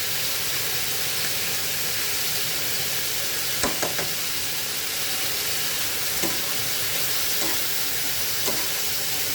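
Spices, including coriander powder and chaat masala, are stirred in a hot frying pan, giving a constant hissing sizzle broken by a few faint clicks of the utensil, near and unbroken by speech.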